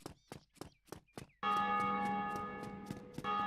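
In Dark Souls Remastered, a church bell rings out loud and resonant after a run of hollow footsteps. It hangs in one long sustained tone that is struck again near the end, with no talking.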